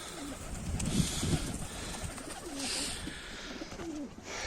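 Pigeons in a flock coo softly and repeatedly against a rustling, breezy outdoor background, at moderate distance, with no talk.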